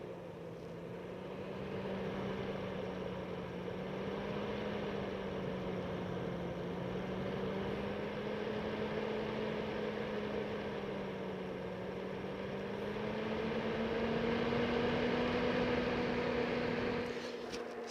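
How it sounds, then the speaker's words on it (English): A Blackmagic eGPU Pro under a GPU stress test runs its cooling fans hard, giving a steady, close whirring hum with a rising and falling tonal drone that swells slightly toward the end. "running a online GPU stress test to where I was really having to max and push this thing out to really kick up the fans"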